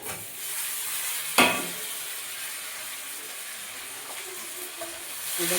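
Spice paste of ground onion, tomato, salt and turmeric sautéing in oil in a pan, a steady broadband sizzle and hiss with a sharp utensil scrape near the middle and small stirring clicks, close and moderately loud.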